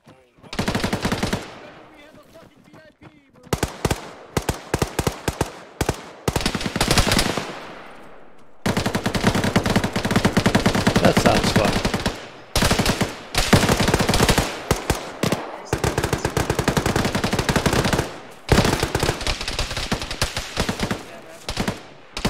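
Heavy automatic gunfire in the Arma 3 combat game, loud sustained bursts of machine gun fire with short pauses between volleys, continuous and close through most of the stretch.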